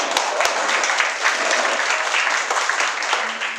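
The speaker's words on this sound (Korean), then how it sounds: "네, 박수." An audience at a Korean music concert applauds a guest being introduced, a thick continuous wash of clapping that holds steady throughout, with a brief voice briefly audible near the end.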